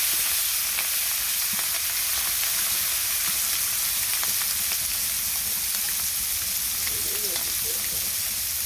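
Hot oil fries in a pan with a dense, unbroken sizzling hiss throughout, close and fairly loud, with faint scattered pops.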